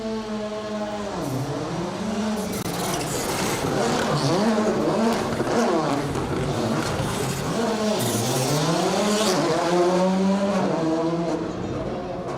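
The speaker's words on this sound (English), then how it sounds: "all tackling this very tight little donut just off the start line" Rally cars, including a Polo GTI, spin a tight donut just off the start line of an asphalt rally stage in Ceredigion, engines revving up and down in repeated swoops with tire squeal, under a commentator's voice.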